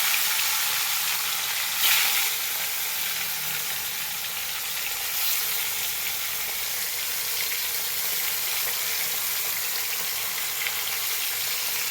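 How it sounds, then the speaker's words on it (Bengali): Catla fish pieces slid into hot oil, frying with a continuous loud crackling sizzle and a few sharper spits, close up and without talk. "তেলটা আমার গরম হয়ে গেছে, মাছটা আস্তে করে দিয়ে দিলাম।"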